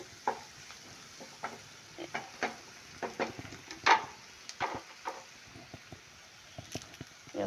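Curry leaves in oil sizzle gently in a pan while a spoon stirs and scrapes in irregular taps and clinks, with the crackle rising briefly midway.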